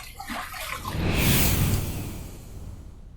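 Running water rinses a face after a second shave pass with a Yaqi stainless steel three-piece safety razor, a steady close splash and trickle that swells in the middle and then eases off, with no talking.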